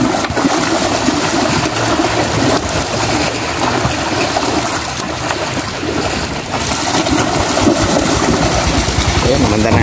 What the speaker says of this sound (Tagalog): Ayan, manda na ating generator.